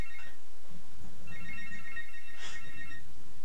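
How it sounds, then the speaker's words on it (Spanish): A phone ringtone rings in repeated electronic tones, in two separate bursts, moderately loud over a steady background hum, with no talking. "Me llaman a este teléfono tantas veces."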